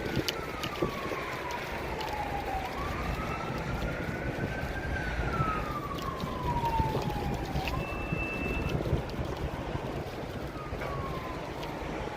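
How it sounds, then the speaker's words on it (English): Emergency vehicle sirens wail near a freeway bridge in Huntington, their pitch sweeping down and rising again across the whole stretch, steady and fairly close over a constant broadband roar of traffic and wind, with no talking. "I heard some sirens behind me, so I was trying to look, see what it was."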